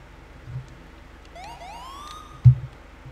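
A Code 3 RLS police siren in the game San Andreas Law Roleplay wails upward in two rising sweeps, moderately loud against a low engine-like hum, with a brief thump near the end.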